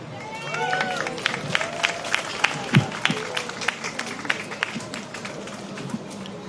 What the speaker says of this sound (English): another round of applause for Cynthia Ambrose